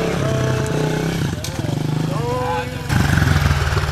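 Motorcycle engine revving hard during a wheelie attempt, a loud, close, throbbing roar that dips and surges again, under excited voices talking over it.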